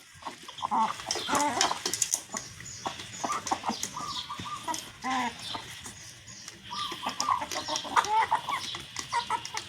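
A flock of farm chickens clucks and crows continuously at close range, busy overlapping calls with no talking over them.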